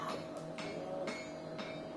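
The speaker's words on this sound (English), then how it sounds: "then actually weld properly with a wide-faced hammer" Repeated hammer blows forge-welding carbon steel onto an axe with a wide-faced hammer, four evenly spaced ringing strikes about half a second apart over a steady background hum.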